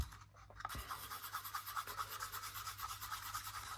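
A stick stirs pigment into silicone paint, giving soft, steady rubbing and scraping strokes in a quick repeating rhythm, close and fairly quiet, with no talking.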